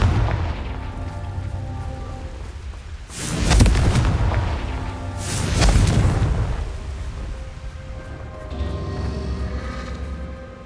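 In Hogwarts Legacy on PS5, a Confringo blasting spell detonates twice, each a heavy, close boom with a rumbling tail. A low continuous ambient drone runs underneath throughout.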